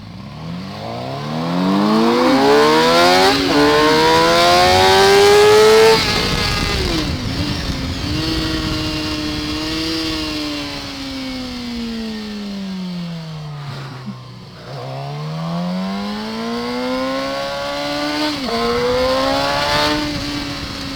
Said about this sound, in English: He's revving his engine though, like he did.